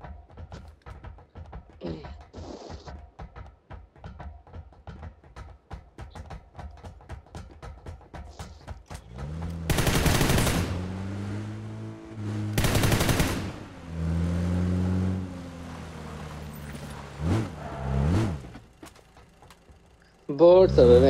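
Bursts of automatic gunfire in the mobile battle royale PUBG New State, played on an iPad, ring out loud in two dense volleys with scattered shots between, while players chat and a mechanical rattle runs throughout.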